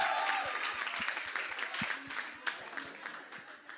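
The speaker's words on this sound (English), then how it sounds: "Let's give a huge round of applause." Audience applause at a women's business conference, a broad wash of clapping with scattered individual claps standing out, moderately loud and tapering slightly over a few seconds.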